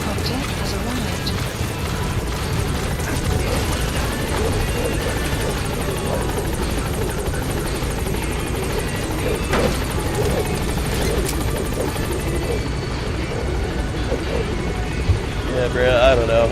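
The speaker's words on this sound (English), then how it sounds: "Support helicopter has arrived." A support helicopter arrives in a video game, its rotor thudding steadily throughout at close range while radio-style voices and players talk over it.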